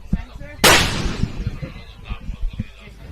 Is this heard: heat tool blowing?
no